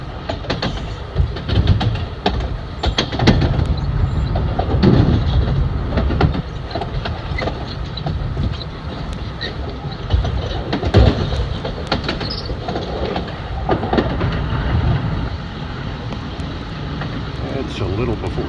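An early morning LIRR M3 commuter train rides the rails westbound from Jamaica toward New York with a close, rolling rumble and intermittent clickety-clack over rail joints, while someone talks over it.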